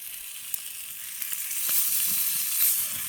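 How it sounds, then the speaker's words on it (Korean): Thick-cut pork neck sizzles on a stone plate over a wood fire, a steady close hiss that swells slightly midway, with a few small pops and crackles scattered through. "고기 굽기 이래 굵게 썰어 놓고 지금 굽고 있습니다."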